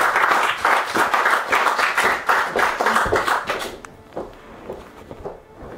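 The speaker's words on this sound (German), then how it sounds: "Und jetzt bitte ich um einen donnernden Applaus für den Erschaffer dieser Welt" Thunderous audience applause at a fantasy literature reading evening. Dense, vigorous clapping rolls for about four seconds, then thins quickly into a few scattered claps and near quiet.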